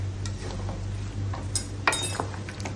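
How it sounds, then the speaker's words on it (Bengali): A spoon clinks and scrapes against a dish while mango is stirred together with ground coriander and dried chili powder, quick irregular metallic taps and stirs close by, no talking. "এখন আমি মশলাটার সাথে ভালো করে আমটাকে ভালো করে মিশাতে হবে"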